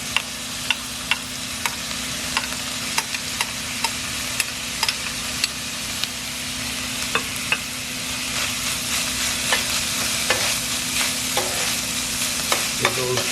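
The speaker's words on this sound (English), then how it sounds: "add the ground turkey meat in" Ground turkey with peppers and onions sizzles steadily in a frying pan while a utensil scrapes and taps against the pan at intervals. The sound is loud and close, with no talking.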